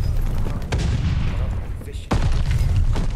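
Gunfire in the World War II shooter Call of Duty: Vanguard: a steady din of game battle noise broken by a couple of sharp, loud shot bursts, with a player's voice intermittently present.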